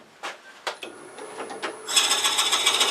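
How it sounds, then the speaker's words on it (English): A drill bores a 3/4 inch hole into a wood-turned Santa figure: a few sharp knocks and scraping rubs, then the motor spins up into a loud, steady whirring grind with rhythmic pulses. "we'll go ahead and drill that out"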